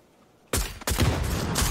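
A grenade blast and gunfire in a video game arrive as sudden loud booms after a quiet start, followed by dense, sustained crackling explosions and shots.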